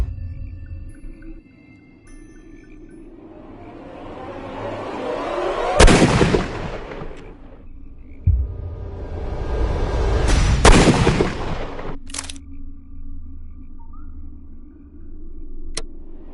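A gunshot in a Sherlock Holmes video game: swelling rumbling whooshes build to two sharp, loud cracks, followed by a fainter snap and a lingering low hum.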